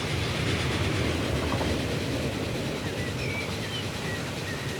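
A train accelerates along an elevated railway in Transport Fever 2, giving a steady, continuous rumbling roll with no talk.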